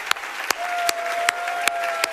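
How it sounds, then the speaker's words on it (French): Church congregation giving an ovation, a short stretch of steady clapping with a few sharp claps at regular intervals and a faint sustained tone underneath. "On devrait lui faire une ovation ce matin."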